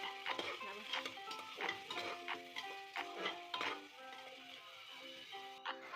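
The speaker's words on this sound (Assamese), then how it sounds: "গেছটো মিডিয়ামত ৰাখি এতিয়া মই চব্জিখিনি অকণমান টাইম ভাজিব লাগিব।" Chopped vegetables frying over medium heat in a pressure cooker for veg pulao, stirred with a utensil that clinks and scrapes against the metal pot in repeated strokes over a steady sizzle, close and fairly loud.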